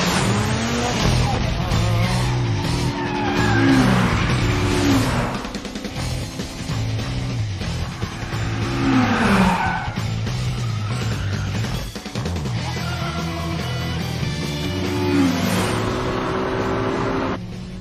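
An anime racing car's engine screams at full power, loud and close, with repeated rising revs through gear changes and brief tire squeal over about eighteen seconds, with no talk.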